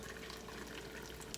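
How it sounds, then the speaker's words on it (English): Water is poured steadily into canning jars packed with potatoes, a faint continuous rushing trickle with no voices. "Water into it."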